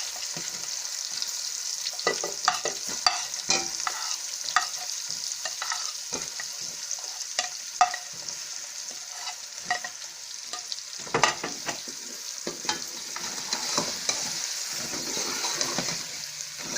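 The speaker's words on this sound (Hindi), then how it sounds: "उसी ऑयल में हमने ये आलू फ्राई करने हैं।" Boiled potatoes coated in spices fry in hot oil for Lahori chanay, giving a steady close sizzle broken by scraping stir strokes throughout.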